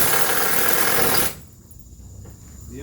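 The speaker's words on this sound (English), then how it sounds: "The impact driver works better." A cordless impact driver drives fasteners while building a wooden wheelchair ramp, giving a loud, buzzing rattle of rapid hammering that runs steadily for over a second, then cuts off, leaving quiet background noise.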